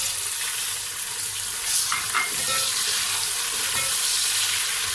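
Garlic-ginger paste and tomatoes fry in a pan for chana pulao, giving a steady close sizzle with a few brief louder spatters midway; no talking.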